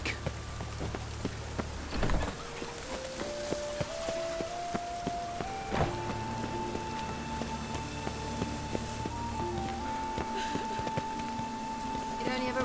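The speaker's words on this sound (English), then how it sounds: "It only ever rains these days." Steady rain falls in the video game The Witcher 3: Wild Hunt, a constant patter of drops under sustained game music tones, with faint clicks throughout.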